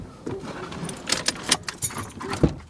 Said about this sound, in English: I got the keys.